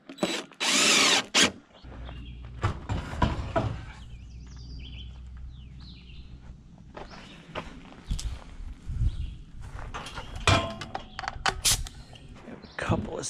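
A cordless power drill drives screws into a barn board on a shadow-board wall, starting with a loud high whir burst, then a quieter stretch of handling, footsteps and knocks, and a few further brief bursts, with someone talking intermittently.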